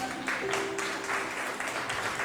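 A church congregation claps during a sermon, a dense, steady patter of many hands filling the room for a couple of seconds, with faint sustained tones beneath.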